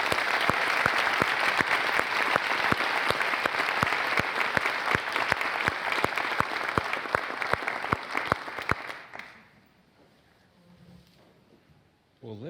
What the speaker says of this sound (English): Please give him a warm Gies welcome.